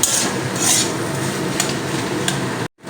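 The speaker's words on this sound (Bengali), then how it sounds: "ভালো করে নেড়ে মিশিয়ে নেব সব" Vegetables with a spoonful of sugar, for vegetable chop filling, stirred and scraped around a pan, with continuous rasping strokes and a couple of brighter clinks that end abruptly in silence.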